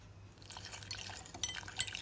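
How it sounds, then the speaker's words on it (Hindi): Water poured into an instant noodle pizza batter and stirred in a bowl, soft wet swishing building up with a few sharp clinks of utensil against the bowl, close and quiet. "अब मैं इसको पानी डाल के मिक्स करती हूँ।"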